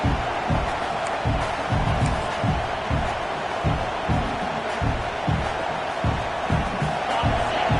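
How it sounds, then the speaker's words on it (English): A large stadium crowd roars continuously at a distance, the dense noise swelling in a steady rhythmic pulse as if chanting or stomping. "Listen to the crowd energy here in the early going."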